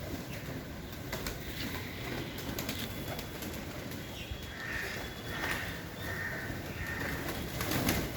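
Pigeons coo softly while pecking at wheat scattered on the ground, the low repeated calls sitting under a steady wash of outdoor background noise, with small clicks and rustles from the feeding birds.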